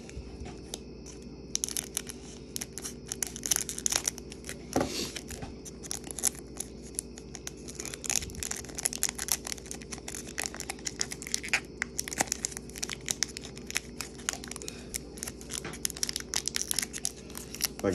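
Pokémon Elite Trainer Box packaging is cut open at close range, giving constant crinkling, tearing and snipping of plastic wrap with scattered sharper crunches throughout.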